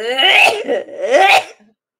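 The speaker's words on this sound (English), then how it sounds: "ah, I'm sneezing." One loud, close sneeze with a voiced, drawn-out build-up and a sharp release, then silence.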